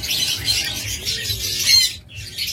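Pet dabong ghughu doves kept in pairs chatter with soft, busy chirps and rustling that run steadily throughout, close and fairly loud.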